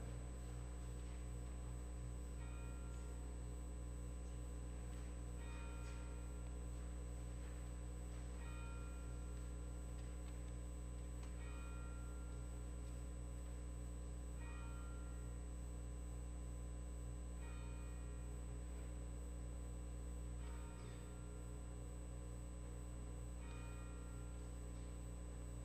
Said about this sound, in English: As we begin our service this morning, we begin by tolling our bell 8 times